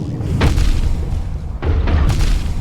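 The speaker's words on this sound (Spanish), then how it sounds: "2 explosiones." Two booming explosions in the Hollow Knight video game, the first around half a second in and the second near the midpoint, each a heavy low thud with a rumbling tail that stays loud throughout.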